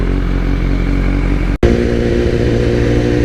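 A BMW S1000RR sport bike engine drones loud and close at high revs, cutting out for a brief instant mid-clip during a gear change before pulling hard again.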